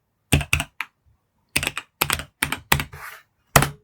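Keystrokes on a computer keyboard while entering a command for a note-taking app, coming as clusters of crisp, close clicks and taps with short pauses between bursts.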